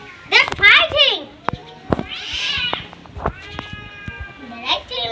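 Children's voices mimic cat meows in rising, wavering cries, several in a row, mixed with playful chatter nearby.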